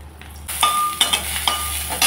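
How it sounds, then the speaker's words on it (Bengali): A little oil going into a pan before frying prawns, giving a sharp sizzle that starts abruptly and flares in several crackling bursts with faint stirring and clinks, no talking. "দিয়ে দিচ্ছি সামান্য তেল"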